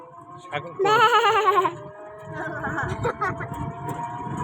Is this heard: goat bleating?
yes